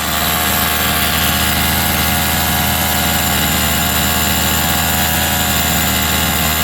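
A Rovan 45cc engine idles roughly with a sluggish, drowning tone, a loud, close, unbroken buzzing drone that holds steady throughout with no talk.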